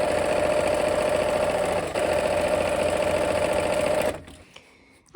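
Sewing machine stitching a section of a patriotic quilt, a steady close rapid mechanical whir for about four seconds, then stopping into near quiet.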